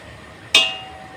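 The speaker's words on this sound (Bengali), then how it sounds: "ঢাকনাটা আমি খুলতেছি।" A single sharp metallic clink rings briefly and close as the lid of a cooking pot is lifted during village-style chicken curry cooking. The rest is quiet.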